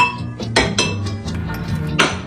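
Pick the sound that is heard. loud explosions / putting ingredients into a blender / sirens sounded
putting ingredients into a blender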